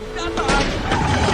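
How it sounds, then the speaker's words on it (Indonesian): A race car's two rear tires burst near the finish line in the animated film Cars: sharp, loud blasts break through dense background sound with voices, the bursts landing in quick succession. "2 ban belakangnya meledak."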